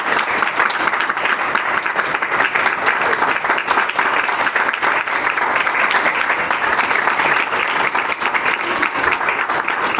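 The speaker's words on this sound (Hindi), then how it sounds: "जोरदार तालियां खुदा उनके जलाल के लिए" A church congregation at an Urdu sermon bursts into long, loud applause, many hands clapping in a dense, steady roar that holds for about ten seconds with no pause.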